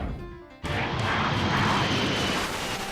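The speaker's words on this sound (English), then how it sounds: "With this smooth morning takeoff from Edwards Air Force Base, Space Shuttle Atlantis began its 2-day ferry flight back to the Kennedy Space Center." A Boeing 747 shuttle carrier aircraft carrying Space Shuttle Atlantis takes off from Edwards Air Force Base in the morning, its engines swelling abruptly into a loud, broad, sustained jet roar.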